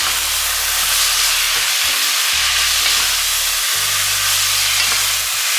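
Beef and basil stir-frying in a hot pan, a loud, dense hiss and sizzle with a low scraping rumble from tossing, close and continuous.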